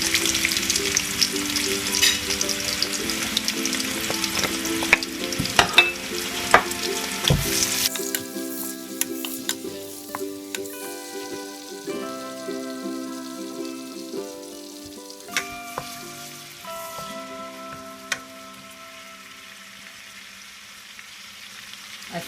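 Onions dropped into hot oil for egusi melon soup, a loud burst of frying that settles into a steady crackling sizzle, with stirring clatter and tonal hum, no voices.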